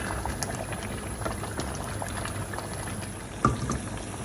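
Chicken karahi masala simmering hard over a high flame, a steady low bubbling hiss with scattered soft pops and one sharper crackle near the end, heard up close with no talking.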